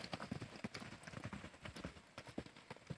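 A dangerous, unsoftened horse moving during a training session, its hooves clopping in a steady, fairly close rhythm throughout, with faint background sounds.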